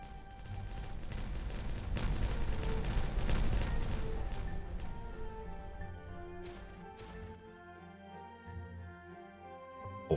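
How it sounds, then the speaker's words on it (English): Detonated explosives go off in the building game Timberborn, a loud rumbling burst of crackling blasts that gradually fades into lighter debris sounds and faint musical tones. No one speaks. "All of those are detonated and ready to cook."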